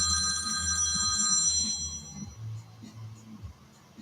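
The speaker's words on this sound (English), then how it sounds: "Sorry, someone got a phone call." A phone rings for an incoming call, a bright trilling electronic tone repeating for under two seconds and then stopping, followed by soft low handling and background noise in a room.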